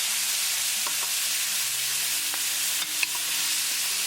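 Tomatoes frying in a pan with green chili tadka for a chicken drumstick and potato curry, a steady broadband sizzle with a few soft scrapes of stirring, close and continuous with no voices.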